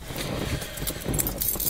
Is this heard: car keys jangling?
yes